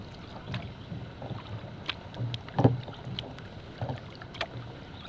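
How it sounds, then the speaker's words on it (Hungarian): A rowboat being rowed across open water, with irregular splashes and paddle strokes, one stronger stroke in the middle, over light wind noise and without speech. "Gyorsabban, evezzél!"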